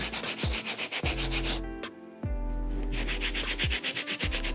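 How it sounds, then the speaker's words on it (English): A brush scrubs a sneaker with cleaning foam in rapid back-and-forth strokes, a close rhythmic rasping with a brief pause midway. "Nice back and forth motions, letting the brush do the work"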